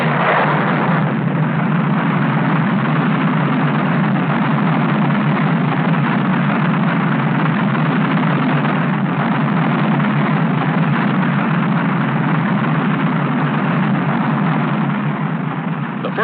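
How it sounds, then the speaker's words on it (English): Saturn V rocket stages with chemical engines burning fuel for thrust give a steady, loud, unbroken roar with deep rumble, holding constant for the whole stretch with no voices. "Its three stages have chemical engines that burn fuel to generate thrust."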